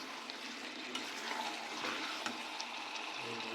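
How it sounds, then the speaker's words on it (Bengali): Warm water pours steadily into a pan of cooking chicken, a faint continuous watery hiss and splash with soft sizzling beneath it, close and unbroken with no voices. "এরপর এতে আমরা হালকা গরম জল অ্যাড করব।"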